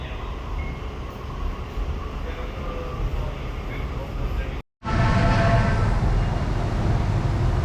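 Steady rumble and rattle of a moving train car on a ride to Putrajaya, Malaysia, a brief dropout, then louder continuous rolling noise with faint announcements or voices in the background.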